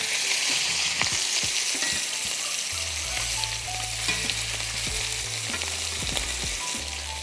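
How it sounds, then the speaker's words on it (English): Salmon fillets sear in a pan at high heat, a loud, continuous close sizzle with occasional crackles and a low steady hum beneath. "We're gonna flip it on the other side and continue searing at high heat."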